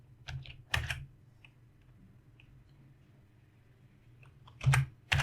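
Keys clatter on a computer keyboard in short bursts at a desk, a quick cluster of clicks near the start and another near the end with a quiet pause between, close and crisp.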